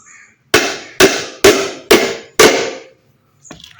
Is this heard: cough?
no